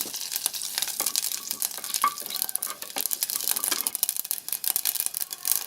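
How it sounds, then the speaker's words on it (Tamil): Mustard seeds and urad dal with dried red chillies crackle and sizzle in hot oil while tempering for a South Indian brinjal curry, a dense close stream of pops and spits with stirring. "கடுகு, உளுத்தம் பருப்பு சேர்த்துடலாம்."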